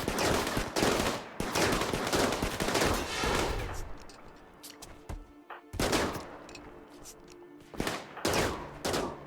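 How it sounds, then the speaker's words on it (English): Colonists firing rifles at a zombie in RimWorld; rapid bursts of loud gunfire in clusters with short gaps, interspersed with quieter game effects and a few isolated shots. "someone else just chose to shoot at it on their own"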